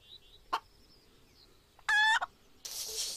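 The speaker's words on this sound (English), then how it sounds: "Where did you come from, little chicken?" A small chicken makes a few short clucks and chirps outdoors on a river ride, with brief bursts and a rustling sound near the end, fairly close and clear.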